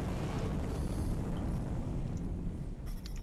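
A large ship in Apex Legends descends to land, giving a steady, loud low rumble with roaring, wind-like engine noise that holds for the whole stretch, no voices over it.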